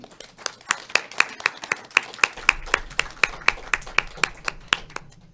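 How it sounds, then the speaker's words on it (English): Rhythmic clapping at an evening research presentation, loud sharp claps in a steady beat of roughly three per second, nearby and without talk. "Can we do another round of applause?"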